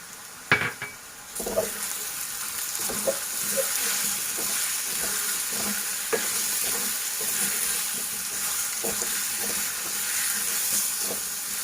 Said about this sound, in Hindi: ये हमारा अच्छे से मिक्स हो गया मसाला